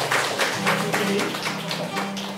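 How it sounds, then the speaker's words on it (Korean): Church congregation clapping during an award presentation at a Sunday service, a loose run of claps with voices talking over them. "우리 박수하도록 하겠습니다"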